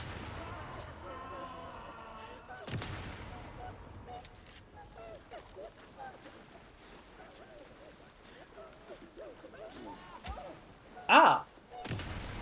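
Sporadic gunfire in the horror game Alan Wake 2: a sharp shot early on, scattered distant bangs and rumbles, then a louder burst near the end, under tense ambience with a player talking and exclaiming.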